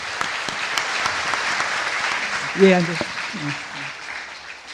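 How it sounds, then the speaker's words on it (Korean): Audience applause at a public political broadcast event in Gwangju, honouring a student and his grandmother, steady moderate clapping from a seated crowd while someone briefly speaks over it. "박수 좀 보내드립니다"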